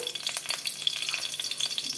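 Two green chillies dropped into hot oil in a wok crackle and sizzle continuously, a bright, busy frying hiss close up with no talk over it.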